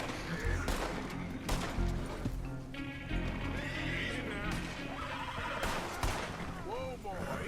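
A horse in the open-world western game Red Dead Redemption 2 whinnies and snorts over the clip-clop of hooves, with gunfire in the distance and a voice speaking calmly to the animal.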